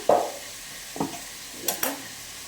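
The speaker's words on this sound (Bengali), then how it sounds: "এবার আলুগুলো লাল লাল করে ভেজে দেবো" Potatoes frying in oil in a home kitchen pan, with a few short stirring scrapes and sizzle bursts over a soft, steady frying hiss, close and without talk.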